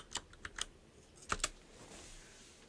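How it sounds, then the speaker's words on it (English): Rapid clicks of typing on a computer keyboard, a few sharp keystroke bursts spread through a quiet stretch with a faint background hiss and no talking. "we can't hear it because Hank's keyboard"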